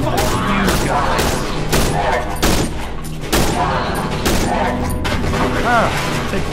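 Loud, dense gunfire from the horror video game Cry of Fear, with rapid repeated shots and booms running throughout, heavy and continuous.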